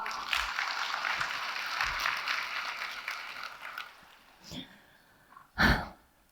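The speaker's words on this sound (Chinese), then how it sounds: "我们给自己一个掌声" An audience claps at a leadership training conference in Macau, a steady wash of applause that fades out over several seconds, followed by a couple of brief breaths or shuffles near the end.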